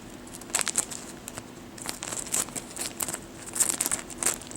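Scissors cut away a plastic bag, giving close, crinkly rustling and snipping bursts at an irregular pace over a low steady background.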